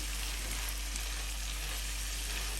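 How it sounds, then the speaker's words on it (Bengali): Capsicum is stir-fried and mixed with nearly cooked vegetables in a pan, a constant close hissing sizzle with faint stirring underneath and a low steady hum in the background. "এখন আমি ক্যাপসিকামটা দিয়ে দিচ্ছি ভালো করে একটু মিশিয়ে নিচ্ছি"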